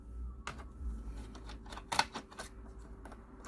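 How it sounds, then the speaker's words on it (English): Screws being removed from the underside of a Dell Inspiron N4110 laptop: a few small, sparse clicks and ticks of a driver on metal screws, quiet and close, over a low hum with no talk. "Now you need to remove these 1, 2, 3, 4 screws."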